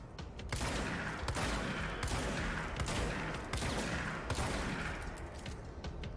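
Rapid bursts of gunfire in the video game Control, sharp repeated shots crackling over a dense, loud background of combat noise, without speech.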